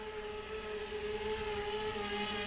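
An XK X450 drone with small brushless motors whirs steadily in flight, a faint, even mechanical hum holding a constant pitch throughout, with no voices.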